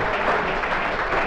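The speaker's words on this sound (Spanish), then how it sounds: "Y se merece, no uno, dos grandes aplausos, bien fuertes" Audience at a homebrew beer awards gala breaking into loud, sustained applause, a thick wash of many hands clapping together.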